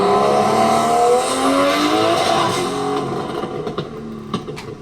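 A Ford Mustang GT350 fitted with a Barra engine roars past loud and close, its exhaust revving hard with some tire squeal, then fades away as a few sharp pops and crackles follow.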